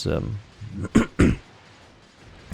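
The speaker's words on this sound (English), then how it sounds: "sorry for clearing my throat, by the way." Two short, gruff throat clears close to the mic, following a brief murmur of voice.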